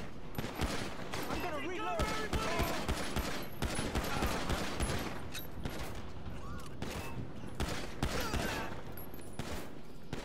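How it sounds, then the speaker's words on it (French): Gunfire in a police video game set in Los Santos, dense bursts of automatic shots and rapid volleys crowding close together, with voices talking over the shooting. "Ça me tire dessus, ça me tire dessus."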